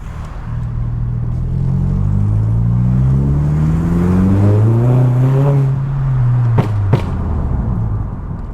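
A Volkswagen MK4 Golf GTI pulls hard through the gears, its engine note climbing and dropping with each shift as it passes close and loud, ending in two sharp pops.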